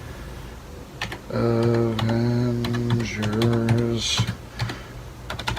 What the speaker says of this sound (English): And let's type this in.